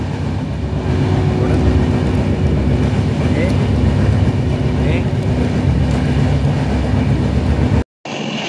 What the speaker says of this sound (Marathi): त्यानंतर तुम्हाला आहे ना ट्रेन आतून कशी आहे हे सर्व तुम्हाला दाखवतो या व्हिडिओमध्ये।